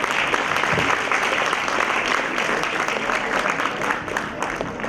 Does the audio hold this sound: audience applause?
yes